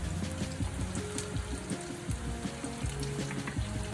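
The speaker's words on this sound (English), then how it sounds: "Now just let it fry." Dense crackling and popping of cheese puffs frying in hot oil, steady and close with no voices.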